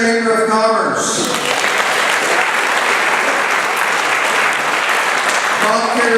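An audience at a building dedication ceremony for the Grissom Center in Bonne Terre breaks into loud, sustained applause, with a speaker's voice just before the clapping swells and again as it fades.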